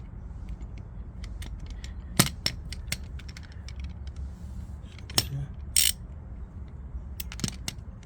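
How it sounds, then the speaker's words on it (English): A spanner ratchets on the crank bolt of a Volkswagen Golf Mk1 engine, with irregular close metallic clicks and clacks scattered over a quiet background. "Let me get my spanner."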